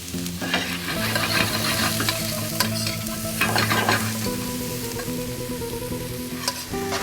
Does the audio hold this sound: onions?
yes